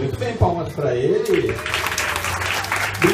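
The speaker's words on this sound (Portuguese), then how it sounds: "palmas para ele" An audience claps at a classical music presentation after a child plucks the strings of an instrument. A voice speaks first, then a sustained burst of fairly close applause follows.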